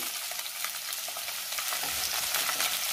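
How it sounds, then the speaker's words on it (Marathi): Capsicum stir-fries in a hot pan with green chillies, a dense continuous sizzle with soft scraping stirs, close and alone without talk. "ढोबळी मिरची सुद्धा मी 1 मिनिटभर चांगली परतून घेणार आहे"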